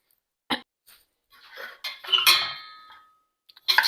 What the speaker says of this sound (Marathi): इथे इडली पात्रात पहिल्यांदा इडली ठेवते